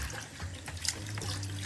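Tap water running while prawns are washed in a kitchen sink, a close steady splashing trickle with brief gurgles and hand movements in the water, moderately loud and with no talking.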